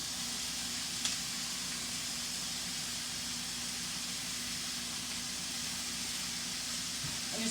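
Morel mushrooms sizzling in butter and oil in a hot pan, a steady broad hiss that holds evenly throughout, with one faint tap near the start.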